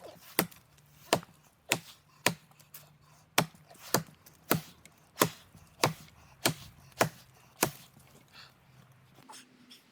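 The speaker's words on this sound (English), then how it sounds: "I'm also going to cut those trees with the tomahawk as well" A survival tomahawk chops into a tree trunk outdoors with about fifteen sharp, evenly spaced, loud wooden thwacks, each blow ringing briefly before the next.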